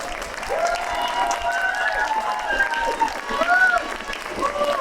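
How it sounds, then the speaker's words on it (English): Audience applause at a democracy summit, steady moderate clapping from a seated crowd with voices and brief calls mixed in, carrying on for several seconds. "Let's give them a warm round of applause and give them a lot of love"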